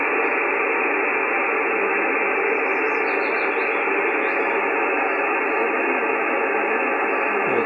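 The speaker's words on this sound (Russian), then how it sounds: "Вот опять чуть-чуть станция вышла из-под шумов" A faint radio station barely rises out of a dense, even hiss of static on a Malahit DSP receiver, the signal buried and wavering under the steady noise throughout.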